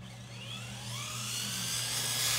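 Traxxas 4Tec 2.0 RC cars drag racing in the evening, Ferrari 458 against Ford GT bodies, their electric motors giving a rising high-pitched whine that grows steadily louder, with a steady low hum underneath.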